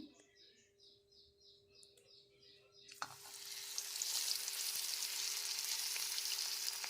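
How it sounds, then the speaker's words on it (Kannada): Bangude (mackerel) fish coated in rava slipping into hot oil: faint chirping birds for the first few seconds, then a sudden loud, steady sizzle of frying that fills the rest, close and without talk. "ಫಿಶ್ಶಿಗೆ ಫುಲ್ಲು ರವೆ ಅಂಟ್ಕೊಂಡಾಗ ಇದನ್ನು ಎತ್ತಿ ಎಣ್ಣೆಯಲ್ಲಿ ಬಿಡೋದೇನೆ"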